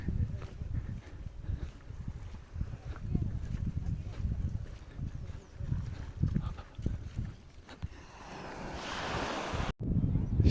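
Ocean surf rolls onto the white-sand beach at Finisterre, Spain, as a steady low rumble of breaking waves. Wind buffets the microphone and swells into a hiss near the end.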